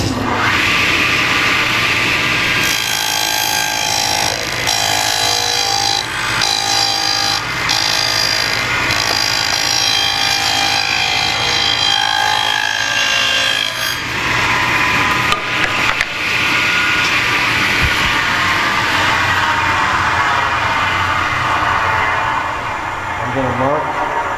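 A table saw runs and cuts through material in repeated 1/8-inch passes to clean out a wide groove, giving a loud, steady, close-up machine whine that holds for the whole stretch and shifts slightly partway through.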